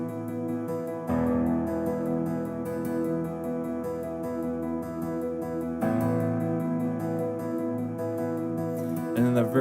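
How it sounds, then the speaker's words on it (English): Breathy, airy Alchemy synth pad played on keys, swelling in as a soft sustained chord that shifts to a new chord partway through, filling space in a quiet mix with no voices. "I'm using an alchemy pad that is a little bit breathy, kind of an airy sound that fills up some space"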